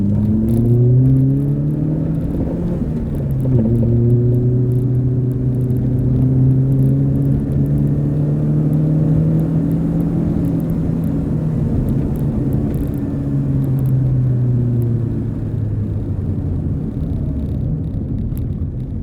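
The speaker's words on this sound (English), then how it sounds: "It's only a short test drive, Ben." A Fiat Cinquecento engine revs up and down steadily on a short test drive, a continuous close droning whir with rising and falling pitch, no voices.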